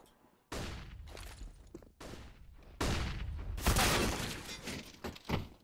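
Desert Eagle pistol gunfire in a Counter-Strike match on the Dust2 map: several loud, sharp shot bursts in quick succession, each with a decaying tail, the last bursts denser and louder, with no talk.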